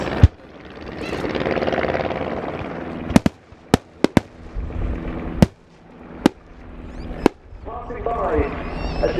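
Sharp pops of pyrotechnic gunfire effects ring out over a droning engine at a Great War dogfight flying display at RIAT, about eight separate bangs spaced irregularly across the clip.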